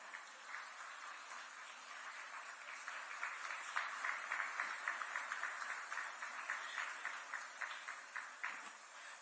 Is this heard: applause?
yes